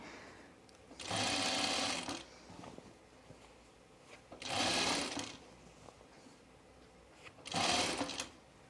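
A sewing machine stitching a dress in three separate bursts of about a second each, loud and close, with quiet pauses between them and no talk.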